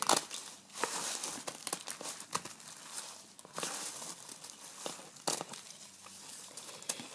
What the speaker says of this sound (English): you just take your scissors and you're just going to want to